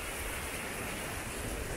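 Sea waves at Piñones beach in Puerto Rico give a steady, dense wash of surf noise, close and even throughout, with no talk.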